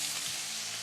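Four strips of bacon frying in a pan, rendering fat to cook trout, give a steady soft sizzle and crackle throughout, close and fairly quiet with no talking.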